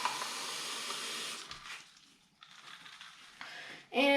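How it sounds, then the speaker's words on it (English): Water pours and hisses into a cup of copper sulfate crystal shards, a soft splashing stream that fades and pauses before a brief louder clink at the end. "add some water"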